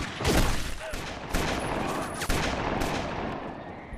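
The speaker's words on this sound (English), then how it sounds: "starts shooting everybody from a cliff" Pistol gunshots fired from a clifftop in a western film, a volley of sharp cracks in quick succession over dense battle noise and ricochets.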